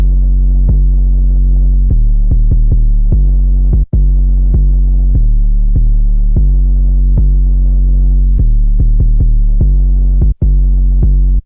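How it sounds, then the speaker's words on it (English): Deep, booming 808 bass notes following a chord progression in a trap-style beat, hitting loud and steady in a rhythmic pattern with a couple of short drop-outs, no voices. "This is an 808 pattern. Just, copy the bass notes from the chords."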